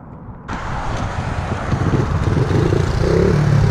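Carbureted kickstart Honda CRF50 small motorcycle engine riding around town, rising from a quiet start into a close, steadily building buzzing drone that climbs in pitch as it gets rolling.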